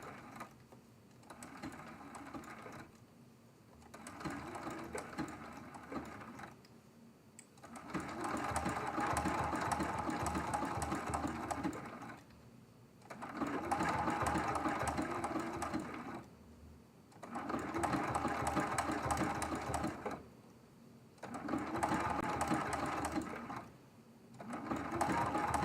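A sewing machine stitches a quilt block in repeated bursts a few seconds long, whirring steadily and then pausing briefly, close and moderately loud, with no talk over it.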